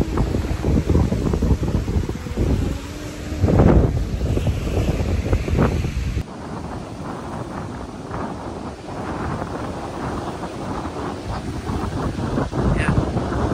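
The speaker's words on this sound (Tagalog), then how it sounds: "Mahangin." Strong wind buffets the microphone at Sandpiper Beach on Lake Winnipeg's shore in St. Laurent, Manitoba, with rough waves rolling in beneath a loud, continuous roar.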